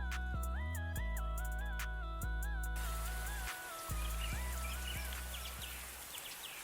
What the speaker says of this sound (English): just add this ambience, this bird ambience and anime rain